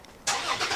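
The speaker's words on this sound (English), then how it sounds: "this 4-liter V8 with that exhaust just sounds phenomenal" A Toyota 4Runner TRD Pro's 4-liter V8 with TRD exhaust cranks to life by remote start, a sudden loud catch after a quiet pause, then settles into a steady, throaty idle close by.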